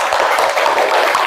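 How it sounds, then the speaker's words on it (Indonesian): A short burst of steady, close applause from a group of teachers or students during a school training session, loud and continuous with no gaps. "Tepuk tangan untuk kita semuanya."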